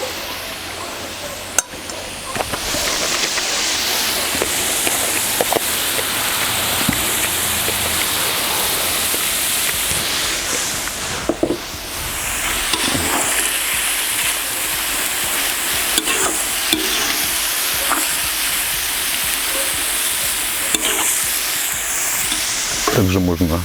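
Meat and onion frying in a kazan for bigus with chicken: a steady, loud sizzle throughout, with occasional scrapes and stirring clatter.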